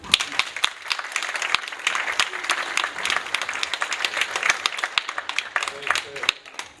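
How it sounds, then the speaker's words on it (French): An audience applauds at an honorary citizen award ceremony in the town of Petite-Île, with dense, steady clapping lasting several seconds and a voice talking over it near the end. "sous vos applaudissements"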